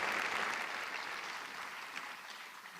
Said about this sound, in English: would you all please give a round of applause to Cypress Credit Union for providing the cash prizes for our Teachers of the Year tonight